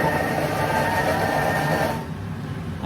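A Thermomix whirs steadily as it blends refried beans, a close, even mechanical hum that drops away abruptly near the end.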